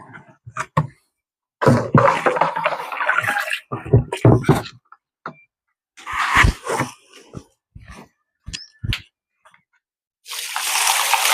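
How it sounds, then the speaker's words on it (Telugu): Intermittent bursts of water splashing and pouring into a tub, separated by short silences, close by. "నీళ్ళు తీసుకొని అందులో పోసుకోవాలి"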